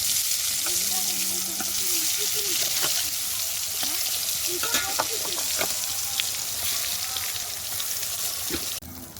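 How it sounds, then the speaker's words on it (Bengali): Eggplant pieces rubbed with salt and turmeric crackle and sizzle in hot oil in a wok, a steady close frying hiss with scattered pops and light stirring scrapes. "এবার আমি দিয়ে দেবো নুন হলুদ মিশিয়ে রাখা বেগুন"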